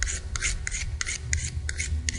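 A rusty blade edge is sharpened with rhythmic back-and-forth scraping strokes, about a dozen gritty rasps close up over a low steady background rumble, with no talk.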